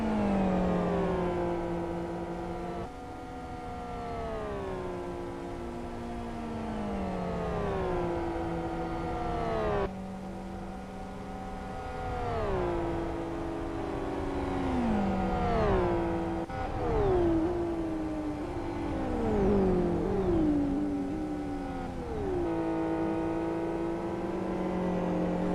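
Race car engines in the Live For Speed racing game during an IGTC online endurance race, several cars whining and revving continuously with pitch sweeps as they shift and pass, loud and steady for the whole stretch with no talking.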